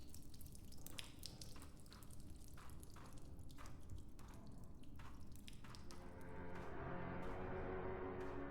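Water dripping in a horror video game, faint sparse drops landing irregularly over a low ambient hum that grows slightly louder toward the end.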